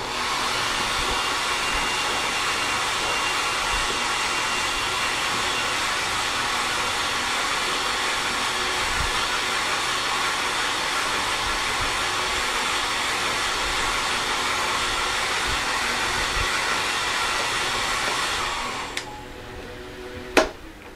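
A hair dryer blows with a steady, loud whirring roar that holds constant for most of the clip before switching off near the end, used to test a homemade wind-measuring instrument.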